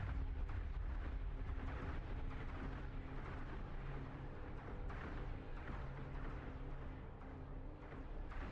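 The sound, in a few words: missile explosion in a 3D spaceship video game made in Godot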